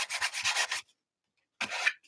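Scraping across paper in an art journal: a close, rhythmic burst of rubbing strokes, a pause of near silence, then another short scrape.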